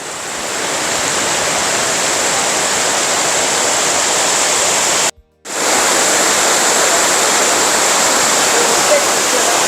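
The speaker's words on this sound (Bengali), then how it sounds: "একদম প্রকৃতির মধ্যে এই ঝর্ণা।" Katiki waterfall in Araku valley, India, a loud, continuous broadband roar of falling water heard close by, briefly cutting out for a moment midway before resuming.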